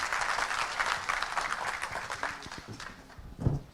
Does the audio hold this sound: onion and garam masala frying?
no